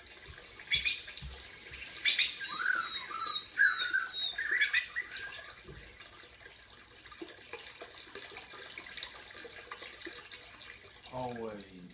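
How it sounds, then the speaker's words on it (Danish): A small stream's running water mixes with birdsong, giving a steady trickling wash under bright chirps and whistles, with a voice speaking over it at times. "der har jeg noget vandløb, en å."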